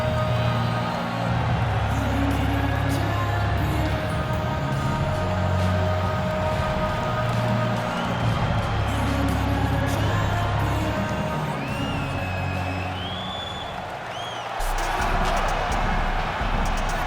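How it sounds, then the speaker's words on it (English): A packed arena crowd roars and cheers as Nate Diaz walks out to face Israel Adesanya in EA Sports UFC 5, a steady loud wash of voices, whoops and whistles under a low droning music bed. "you hear the pop from the crowd, DC, as Nate Diaz gets set to make this walk here tonight"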